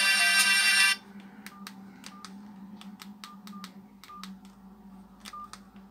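Ringtone played on a cheap Chinese knockoff of a Samsung E1200 phone: a loud harsh buzzy burst first, then a run of short sharp beeping tones in an irregular rhythm, alone with no voices.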